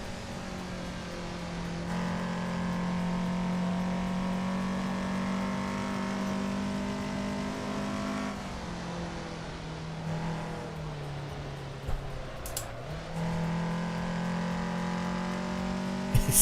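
A car engine in the Assetto Corsa racing game drones at a steady, strained pitch for a long stretch, dipping briefly as revs fall and then climbing again, with no talking.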